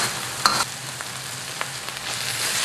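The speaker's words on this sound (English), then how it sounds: "Now I'm going to cook this lemongrass for about 2 minutes in this sambal paste" Lemongrass frying in sambal paste for a Vietnamese tossed eel dish: a steady close sizzle and crackle throughout, with a few brief stirring clinks near the start and the hiss swelling slightly toward the end.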